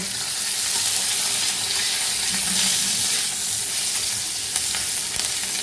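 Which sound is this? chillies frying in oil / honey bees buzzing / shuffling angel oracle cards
chillies frying in oil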